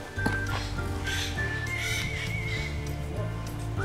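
A horse at a ranch neighs in a high whinny partway through, amid steady outdoor background noise, faint whistling tones and some distant clip-clop.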